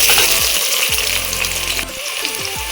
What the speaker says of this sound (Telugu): వేడెక్కింది, ఉల్లిగడ్డ వేసుకున్నాం.